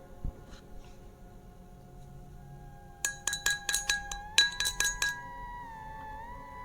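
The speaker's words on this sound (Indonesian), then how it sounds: "aku mendengar suara seperti seseorang tengah membuat teh panas di gelas dan diaduk dengan sendok" A metal spoon stirs hot tea in a glass, ringing in a quick run of about a dozen bright clinks that slow at the end, close and clear against a quiet room.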